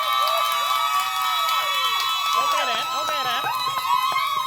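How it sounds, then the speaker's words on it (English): Audience cheering and clapping for a contestant at a Diageo bartending mixology competition, a steady crowd roar with whoops under a presenter's continuous talk. "It was a wonderful round of applause."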